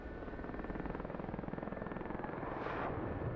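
A DCS World military helicopter thrums steadily with a fast rotor chop, a loud, even drone that swells slightly toward the end.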